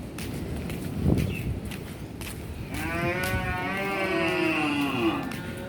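Several cows moo one after another, long drawn-out calls overlapping near the listener, with some outdoor shuffling in the background and no talking.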